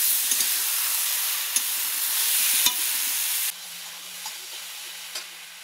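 Pointed gourd and potato curry hisses and sizzles loudly in a pan with a few clinks of stirring, then the sizzle drops to a quieter simmer partway through, with no talking.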